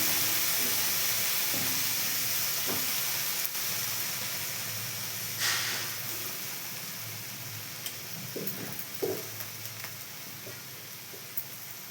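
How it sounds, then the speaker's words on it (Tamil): Banana stem frying in a pan, a steady hiss and sizzle of steam throughout with a few faint pops and clinks near the end, no talk. "செவந்தோன்னா வாழைத்தண்டை போடும்."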